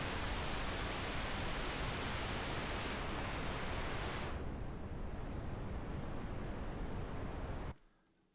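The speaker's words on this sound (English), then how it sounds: "let's make this noise lower pitched" Steady filtered noise in Pro Tools hisses continuously, its upper range dropping away in two steps as it becomes lower pitched, then cuts off abruptly near the end.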